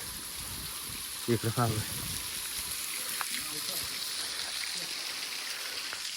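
Flowing stream water rushes steadily throughout in Fofsandi village in the misty Sahyadri mountains, with a voice speaking briefly near the start.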